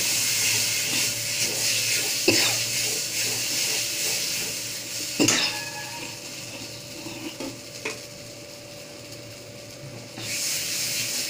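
Water is added to a pan of pomfret fish curry where spices have been fried until the oil separates, giving a steady sizzling hiss with a few sharp splashes and stirring scrapes, no voices.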